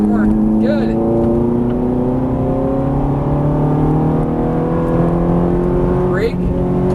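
Ferrari 430 engine accelerating on a race track, a loud, close exhaust note with clearly rising pitch sweeping upward over several seconds, with a voice briefly heard.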